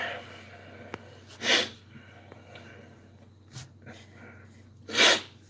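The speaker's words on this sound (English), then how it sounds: "to people wondering why I'm sniffing" Sharp nasal sniffs from a person with a nose broken several times, two loud forceful snorts standing out among fainter short sniffs, close and alone without talk.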